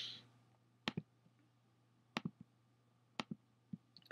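Computer mouse double-clicks while selecting fill colour in Illustrator, sharp paired ticks repeated several times, close and fairly quiet over faint hum.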